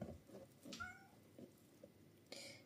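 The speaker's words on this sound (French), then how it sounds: "c'est notre chat qui est arrivé à la maison." A cat meows a few times in short, soft calls indoors, with small clinks and household noises between them.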